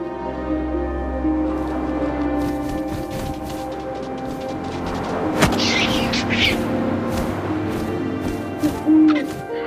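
In the video game What Remains of Edith Finch, an owl hoots in low, soft calls over a steady wind-like ambient bed, with scattered thuds and rustling in the game's soundscape.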